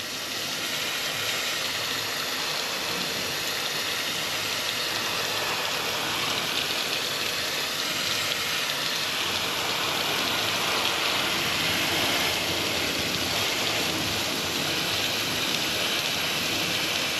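Water gushes steadily out of a Peterbilt 379 truck's cooling system during a flush, a continuous broadband splashing hiss like heavy rain that holds at an even, moderate level with no talk.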